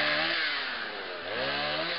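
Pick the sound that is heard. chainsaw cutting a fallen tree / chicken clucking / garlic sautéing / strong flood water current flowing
chainsaw cutting a fallen tree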